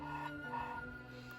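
Breathy, airy flute note played with too much of the embouchure hole left uncovered, a wavering tone with a noisy hiss around it, heard alone and close in two short swells.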